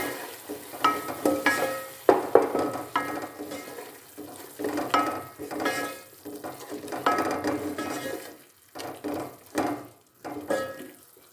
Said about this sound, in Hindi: दो से 3 मिनट हम टमाटर मसालों को अच्छे से भून लेंगे